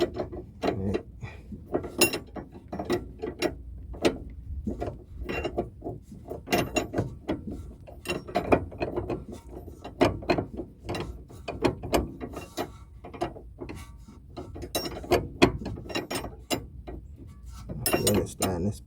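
Ratcheting wrench tightening a stabilizer bar bolt on a sixth-generation Dodge Charger R/T, with rapid, steady clicking bursts close by, pausing briefly between strokes and carrying on throughout.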